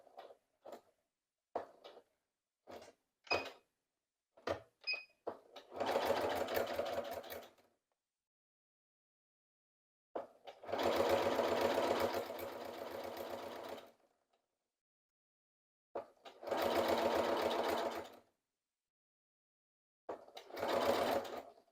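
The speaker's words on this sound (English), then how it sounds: "I'm just going to start sewing, and I'm going to stop when I get to the corner" Sewing machine stitching fabric, a few short taps and clicks at first, then several steady whirring runs of a few seconds each separated by pauses, close and clear with no talking.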